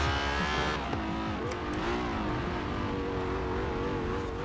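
Stock 2017 Ferrari 812 Superfast in Forza Horizon 4 spinning its tyres in third gear, a loud, steady engine roar holding high revs with layered harmonics and a squealing edge throughout, no voice.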